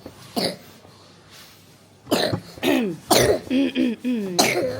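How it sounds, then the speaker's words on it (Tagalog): A harsh cough bursts out near the start, then after a quiet stretch a run of strong, hacking coughs and throaty wheezes follows close up. "Sobrang lakas ng ubo niya"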